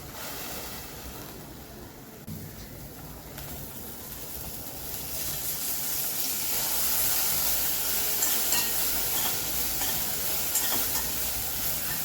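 Cluster beans roast in a little oil in a wok for Maharashtrian gavar bhaji, giving a steady broad hissing sizzle that swells louder partway through, with no talking.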